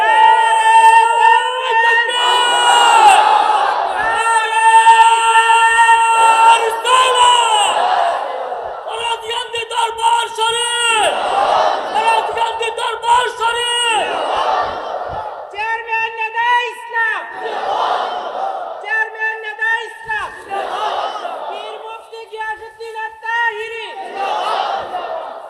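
A large religious gathering shouts a religious slogan in unison, with loud repeated collective chants rising and falling in waves. The chants are led by an amplified voice and echo through a reverberant space.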